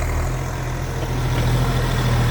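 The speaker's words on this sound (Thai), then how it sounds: "รถไถแมสซี่ สี่เจ็ดสี่เจ็ดครับ" A Massey Ferguson 4707 three-cylinder tractor engine idles steadily up close, a loud, even low rumble with a regular throb that holds without break.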